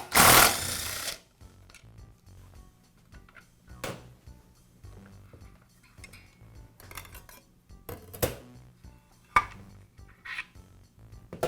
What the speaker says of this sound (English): I'll begin by removing the blade from the saw. The bolt is a reverse thread.